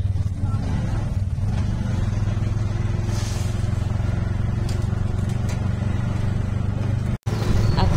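Riding in an auto-rickshaw from Bongaon: a steady, loud, close engine drone with road rumble that runs throughout, briefly cutting out near the end.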